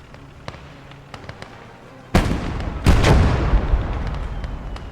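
Mortar fire in a World War II style war video game booms out in two heavy blasts a little under a second apart, each trailing into a rumbling roar, after a stretch of quieter scattered distant shots.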